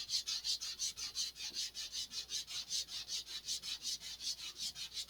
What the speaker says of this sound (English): the more you sand, the less effective the sandpaper is going to be